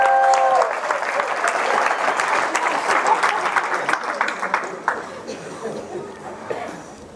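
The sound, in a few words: congregation applauding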